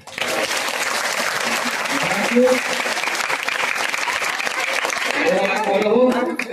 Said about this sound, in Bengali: রেহানের জন্য জোরে হাততালি হয়।